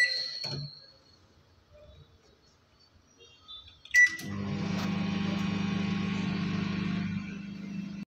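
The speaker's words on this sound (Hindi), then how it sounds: "एक मिनट के लिए माइक्रोवेव करके लेंगे" A few beeps as buttons are pressed on an LG microwave, then it starts with a click and hums steadily, close and uninterrupted, heating dal.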